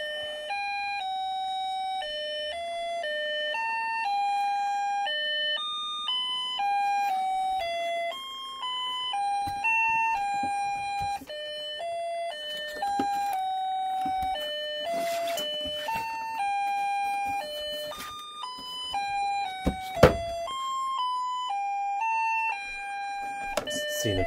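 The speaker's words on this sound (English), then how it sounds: "And has a like a MIDI sound for a birthday song." A 17-inch Telco Motion-ettes animated Happy Birthday clown toy plays a thin, beeping electronic birthday tune note by note, with faint clicks and handling noise underneath, fairly quiet and without talk.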